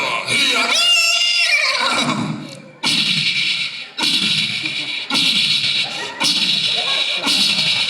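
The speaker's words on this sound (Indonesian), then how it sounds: "seekor kuda perang dipacu ke kota Madinah" A war horse whinnies loudly in a long, wavering neigh at the start, followed by several bursts of a harsh, noisy effect and scattered sounds, with a voice talking through much of it.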